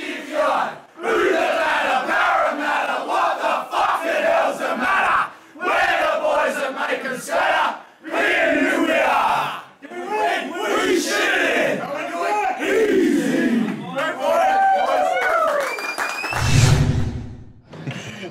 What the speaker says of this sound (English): We leave you now with the club song from the Pioneer Union Falcons